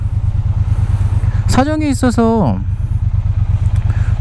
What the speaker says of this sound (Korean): T120 오랜만에 타니까 정말 편합니다.